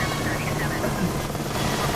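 An H135 helicopter in Microsoft Flight Simulator whirs with a dense, continuous rotor and turbine drone at a steady moderate level, no breaks through the short stretch.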